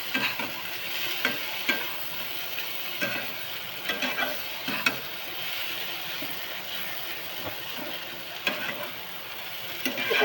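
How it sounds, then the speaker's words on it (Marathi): Potatoes sautéed in a pan make a steady, close sizzle broken by repeated scraping stir strokes over about ten seconds, with no voices. "परतून घेऊया बटाटा."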